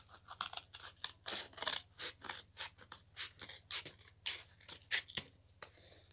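Scissors snipping repeatedly through a cardboard tube while making a hamster toy, a steady series of crisp, close crunching cuts with short pauses, no voices.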